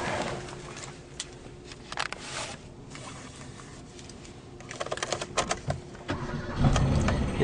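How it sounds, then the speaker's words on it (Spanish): A Dodge Attitude with an automatic transmission starts up, a brief crank and catch around the middle giving way to a steady idle, with bursts of bird cooing nearby and some handling noise toward the end. "El vehículo enciende correctamente."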